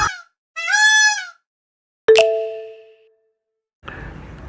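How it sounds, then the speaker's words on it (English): A peacock gives a loud, nasal, honking call, followed by a sharp bell-like ding and a burst of hiss, each separated by silence. "I am peacock."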